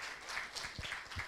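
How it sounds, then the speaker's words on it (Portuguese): Brief burst of audience applause in a lecture hall after a talk on citizenship and social inclusion, a few seconds of scattered clapping, moderately distant and fairly faint. "Eu acho que eles merecem uma salva de palmas."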